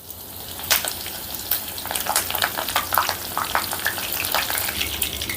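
Peanuts fry in hot oil in a pan, giving a steady close sizzle with bursts of crackling and popping throughout.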